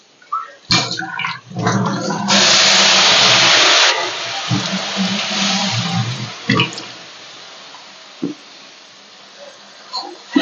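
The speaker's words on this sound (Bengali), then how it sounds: "মশলাটা কষানোর জন্য আমি অল্প পরিমাণে জল দিয়ে দিচ্ছি।" Water poured into spice paste frying in a pan for a Bengali banana flower curry, a loud burst of sizzling that fades into a steady crackle with scattered pops.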